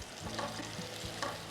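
Garlic sizzles in a hot pan in a Hawaiian kitchen, a short steady frying hiss heard close with no voices.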